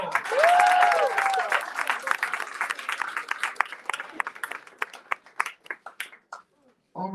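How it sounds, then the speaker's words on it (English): A crowd at a family press conference breaks into loud applause with a whistle at the start, then thins into scattered individual claps before falling quiet, with a voice returning at the end. "Give yourselves a round of applause."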